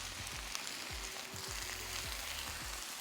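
Cabbage fries in a skillet with a constant bright sizzle and crackle at close range. Low pops and bubbling recur throughout.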